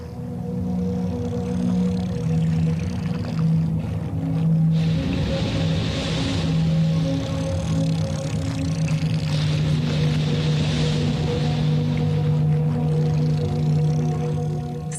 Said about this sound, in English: The greatest weapon of the sperm whale is sound.